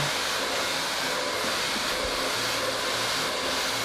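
A hair dryer blows steadily on curly hair, a loud, continuous close-up whoosh with no break for the whole stretch.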